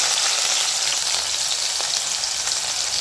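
Onions sauté in a frying pan after fenugreek and cumin seeds have crackled, making a loud, dense, unbroken sizzling hiss that holds evenly for the whole stretch.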